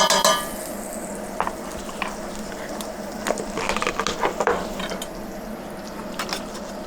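A minced garlic clove cooks in a pan, giving a soft steady sizzle broken by scattered scraping and stirring clicks of a utensil, close and moderately loud.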